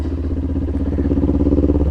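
A motorcycle engine runs steadily up close, its low throbbing pulse rising slightly as the throttle opens.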